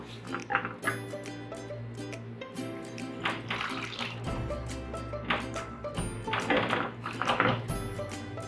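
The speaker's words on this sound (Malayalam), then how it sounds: "ഇതിലേക്ക് നമുക്കൊരു 1/4 കപ്പ് വെള്ളം ഒഴിച്ചു കൊടുക്കാം." A quarter cup of water is poured into a pan of sautéed masala for an Indian masala pizza, giving a few short splashing, hissing bursts amid steady kitchen clatter of pots and utensils.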